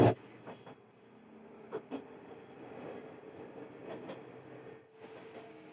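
A sightseeing train on Japan's Tadami Line slows as it crosses the First Tadami River Bridge, a low, continuous rumble with occasional rhythmic wheel clacks, heard from inside the carriage.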